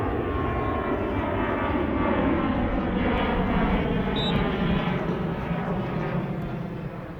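An airplane roars overhead near Dublin Airport at a junior football match, a loud, sustained engine rumble that swells and then slowly fades.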